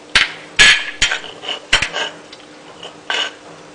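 Shallots, garlic and spices are pounded for serundeng, Indonesian spiced coconut, with a string of sharp, loud, hard thuds at an uneven pace, a few struck in quick pairs, each separated by brief pauses.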